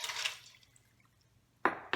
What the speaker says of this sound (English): Now we're gonna go ahead and add in 2 cups of water.